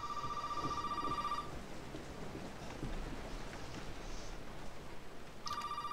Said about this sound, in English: Oh, hey, look, the phone's ringing.